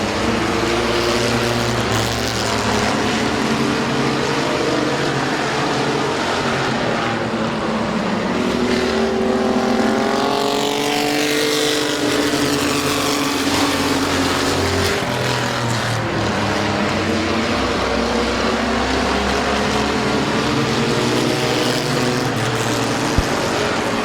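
Race cars roar around the oval at Midvale Speedway, their engines a loud, continuous drone, with pitch sweeping as cars pass close by and fade, several machines layered together throughout.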